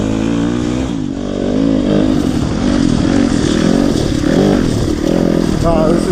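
A Yamaha YZ250FX dirt bike engine revs and pulls close by, its pitch rising and falling through throttle blips as the rider moves off, loud and continuous throughout, with people talking over it.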